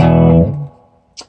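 An electric guitar chord played on the bridge pickup through the clean channel of a Hughes & Kettner amp with reverb rings out loud and fades within half a second, followed by a brief soft click.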